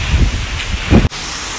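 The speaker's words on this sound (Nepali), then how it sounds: "हावा पुरा आउँदैछ।" Strong wind sweeps through trees during a monsoon storm, a steady rushing rustle with heavier gusts buffeting the microphone before it cuts off abruptly and settles into a softer, continuous hiss.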